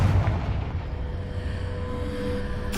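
Confringo blasting spell explosions in Hogwarts Legacy, a deep, rumbling boom that sustains as a heavy low roar throughout, loud and close with no speech over it.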